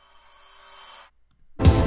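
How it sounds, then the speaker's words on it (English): Synth riser effect built in Bitwig: a swelling noisy tone climbs for about a second and cuts off, then after a brief gap a loud, dense, full-range burst hits and holds to the end. "I have my my own personal rise,"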